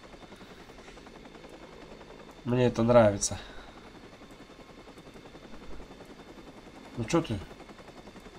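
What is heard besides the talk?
helicopter in Watch Dogs video game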